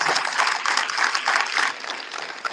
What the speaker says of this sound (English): let's have one more round of applause for all of our navigators